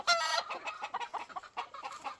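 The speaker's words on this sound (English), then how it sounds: "here's another rooster" A white Kelso stag clucking close by in a series of short, rapid, throaty calls with brief gaps between them.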